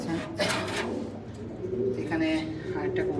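Domestic racing pigeons coo in a loft, with soft, repeated low throaty calls near the microphone amid faint background sounds and some voice-like noise.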